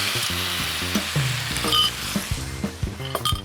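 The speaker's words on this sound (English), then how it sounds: "Give that a little stir." Sloppy joe sauce with coarse black pepper being stirred in a pan, a soft sizzle under a series of spoon scrapes and clinks against the metal, close and irregular.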